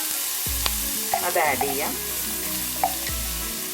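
Two tablespoons of chopped garlic sizzle in about three tablespoons of oil for Gobi Manchurian, a steady close frying crackle with stirring clinks, while a person speaks briefly over it.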